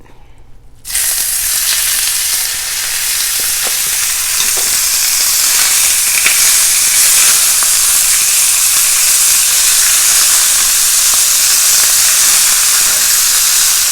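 Ground beef browning in a skillet over low to medium heat gives a loud, steady sizzle and hiss that starts abruptly and runs unbroken, with no voices over it.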